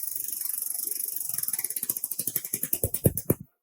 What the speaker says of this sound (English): You'll hear the pump come to a stop when it's been fully bottomed out